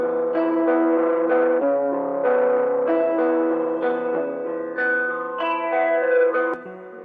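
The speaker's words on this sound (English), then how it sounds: "So this one's got a chorus, some delay and reverb." A guitar runs through a chorus, delay and reverb preset in an iOS app, its chords and notes shimmering and echoing in a smooth, sustained wash, with no voices.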